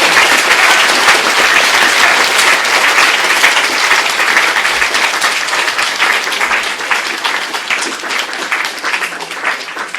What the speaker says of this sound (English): Please send a loud applause.